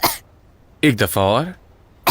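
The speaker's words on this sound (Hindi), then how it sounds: "अब खांसो" A young woman in a hospital coughs on instruction, one cough at the start and another at the end, with a voice speaking between them.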